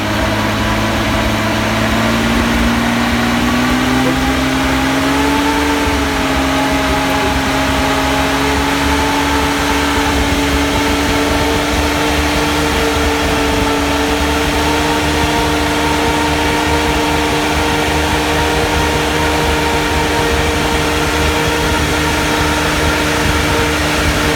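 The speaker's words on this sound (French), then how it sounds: "Vas-y Francky, accélère un peu. On a un petit peu d'inertie" An Alfa Romeo 2600 engine fed by Weber carburettors runs loud and steady close by, its pitch rising as it is revved up from idle and then held high for a long stretch with no talk.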